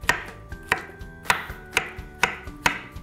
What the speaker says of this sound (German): Dann erstmal die Banane schälen und in Scheiben schneiden.